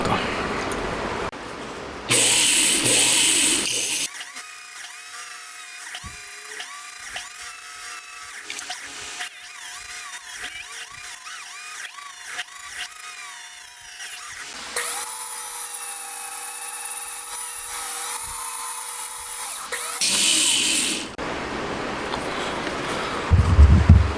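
A valve seat on a 125cc twin-cam 16-valve four-cylinder motorcycle engine is cut on three faces with a small, high-pitched rotary cutter, whining steadily for about fifteen seconds with a short break partway through, close and fairly quiet.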